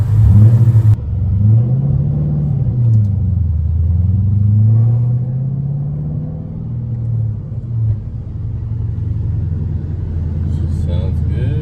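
A Ford Mustang GT500 engine idles for a long stretch, a deep steady low rumble that wavers in pitch as the revs drift up and down, close and loud.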